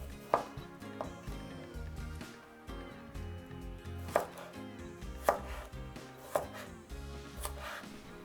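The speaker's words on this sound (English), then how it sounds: "Cut the cucumber into sticks." A knife cutting cucumber into sticks on a cutting board, sharp distinct chops landing at an uneven pace and close to the listener, with no talk.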